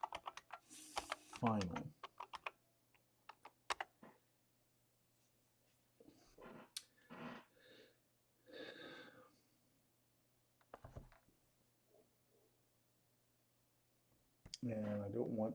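Someone types on a computer keyboard in short, scattered bursts of quiet clicks and taps, with brief pauses between, while a person talks intermittently.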